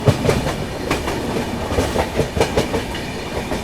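The Rajdhani Express from Guwahati to New Delhi picks up speed on the rails, giving a loud, steady rumble with repeated clickety-clack wheel beats heard from inside the train, with no talk.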